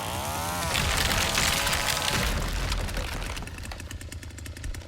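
A chainsaw engine runs in The Texas Chain Saw Massacre video game, a loud buzzing two-stroke roar that swells and then drops to a rougher, sputtering idle with rattling pulses, no one speaking.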